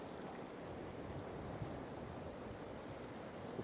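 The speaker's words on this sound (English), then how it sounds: "Look how this swell just gets up in this gap here." Ocean swell and surf wash steadily around rocks and a narrow gap off Cruit Island, Ireland, a soft continuous rushing with light wind noise and no voices.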